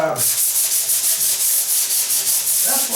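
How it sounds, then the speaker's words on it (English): A paddle sander grinds loudly and continuously across a door being prepped for paint, a close, steady abrasive rasp with a slight pulsing rhythm from start to finish. "that's why I kind of like the paddle sander"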